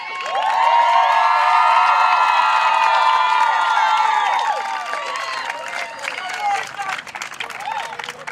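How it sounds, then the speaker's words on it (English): Crowd at a community rally in Lawrence clapping and cheering loudly, dense shouts and whoops at first, then thinning into scattered claps and voices as the excitement eases. "Give Santiago another round of applause"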